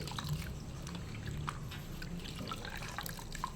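A saree stained with black oil is dipped into water during hand cleaning, giving soft close dripping and sloshing with small splashes that continue steadily throughout.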